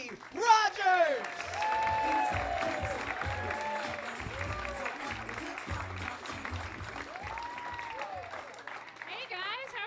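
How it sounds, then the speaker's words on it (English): A comedy club crowd applauds loudly and steadily for a comedian taking the stage, dense clapping mixed with scattered cheers and a few shouts, sustained for the whole stretch. "up a big round of applause for our first comedian, Zoe Rogers"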